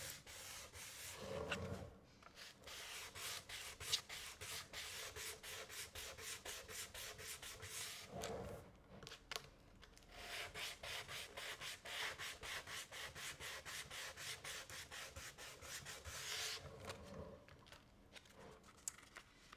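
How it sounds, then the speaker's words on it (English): Steady rhythmic rubbing of a sanding sponge on wood, close and continuous, with short back-and-forth strokes and a few brief pauses. "And now we don't worry about which direction we're sanding in."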